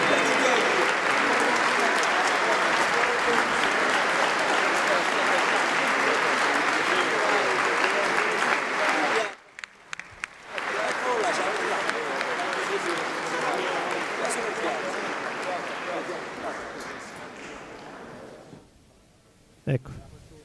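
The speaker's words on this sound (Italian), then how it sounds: "rivolgiamo un calorosissimo applauso a questi campioni" Warm applause from an audience at an official ceremony at Palazzo Chigi in Rome honouring sports champions, dense sustained clapping for about nine seconds that pauses, resumes and fades gradually, with a few last claps near the end.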